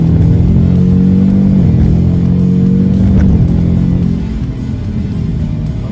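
A 2018 Ford Mustang Shelby GT500R in sport mode rumbles loudly up close, its deep exhaust note wavering with revs before easing slightly toward the end.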